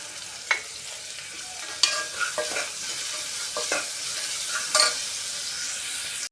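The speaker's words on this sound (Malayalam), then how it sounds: "കറിവേപ്പില ഇട്ട് കൊടുക്കാം. നല്ലവണ്ണം വഴറ്റി കൊടുക്കണം." Curry leaves sautéing in coconut oil for a Kerala-style mutton curry, with a steady soft sizzle and intermittent scraping stir strokes of a spoon in the pan, close and without talk.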